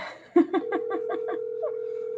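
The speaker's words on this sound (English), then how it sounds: "I hear the phone ringing." A telephone line on a call-in show sounds a quick run of pulsed ringing tones, then settles into a steady, faint tone. No one talks over it.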